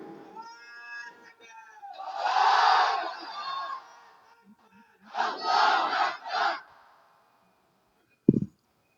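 A crowd at a religious gathering roars a takbir in two loud bursts of massed voices, following a lead voice, with a brief sharp thump at the end.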